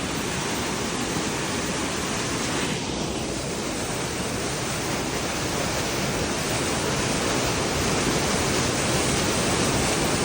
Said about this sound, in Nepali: पानीको साउन्ड कतिसम्म ठुलो आउँदो रहेछ